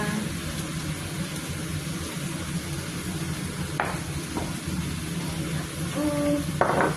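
Chicken adobo with light soy sauce and pepper stirred in a pan over steady sizzling, with a few sharp utensil scrapes and clinks against the pan, close up, and a little talk.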